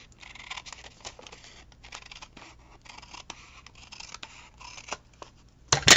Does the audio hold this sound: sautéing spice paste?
no